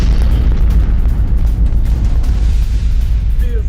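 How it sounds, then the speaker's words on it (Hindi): A Russian Kh-101 cruise missile blasts into water near Kyiv, heard as a loud, sustained, rumbling roar of heavy low noise. No clear separate impact stands out, and no one speaks. "कीव के नजदीक पानी में गिरती दिखी रूसी मिसाइल"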